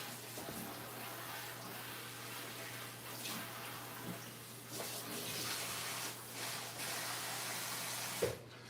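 A tap runs while something is rinsed off during prep of baby back ribs and chickens for a barbecue pit, producing a soft, continuous splashing hiss with a few brief surges, fairly faint and with no one talking.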